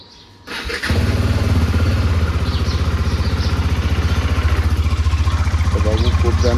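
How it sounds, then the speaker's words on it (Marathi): A motorcycle cold-starts with a quick crank and catch, then settles into a loud, close, steady thumping idle that continues to the end. "जरा गाडीला कोल्ड स्टार्ट करूया."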